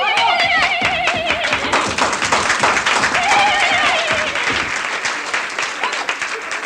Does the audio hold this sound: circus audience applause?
yes